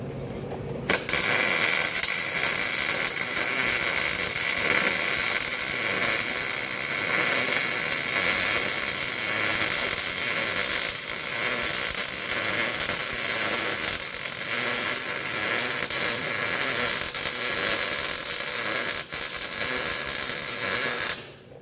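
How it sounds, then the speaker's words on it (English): MIG welder laying a bead on a steel T-joint, a loud, steady crackling buzz that starts abruptly about a second in and runs unbroken for some twenty seconds before cutting off, close by with no talk. "I'll finish welding this."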